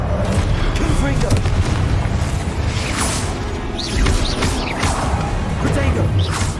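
Blasting spell explosions from the Confringo curse in Hogwarts Legacy boom and crash repeatedly amid ongoing combat effects, loud and close, with a voice calling spells over them.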